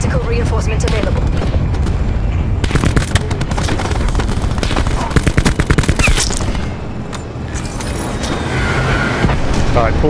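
Rapid gunfire and booming blasts from a Thresher ground attack in a team shooter video game, with loud bursts of shots and heavy rumble dominating, then easing toward the end, with game voices mixed in.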